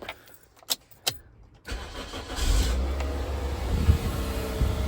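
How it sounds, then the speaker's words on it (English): A couple of sharp clicks, then a car engine freshly filled with oil cranks and catches, settling into a steady, close idle. "pour the oil in, start the car"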